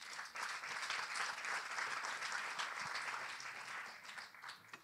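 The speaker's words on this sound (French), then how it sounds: "Merci Sandra, on va t'applaudir et te remercier." An audience at an evening pitch session of a French innovation debate applauds steadily for several seconds, a dense, fairly distant patter of clapping that slowly tapers toward the end.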